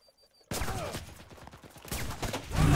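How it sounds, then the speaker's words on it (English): Gunfire in the battle royale game Cuisine Royale: after a brief quiet, a dense burst of shots and impacts erupts and keeps going, loud and close, swelling toward the end, with a voice speaking over it. "another guy was shooting at me"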